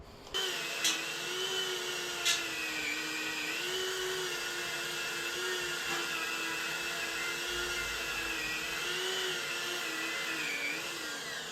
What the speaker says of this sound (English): This little Dremel buff gets into a lot of the corners that I can't even get into with my fingers.